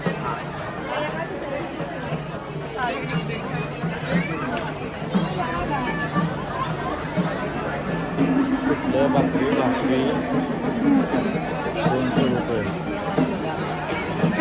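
Dense crowd chatter fills a busy food-stall lane at the Bhimthadi fair (jatra) in Pune, a steady hubbub of many voices close around, with a few nearer speakers occasionally rising above the babble.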